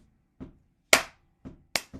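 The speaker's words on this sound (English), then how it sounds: "So I'm just going to clap it out." Hands clap out the Charleston rhythm: five sharp, close claps in a long-short pattern, with softer and louder claps alternating against a quiet background.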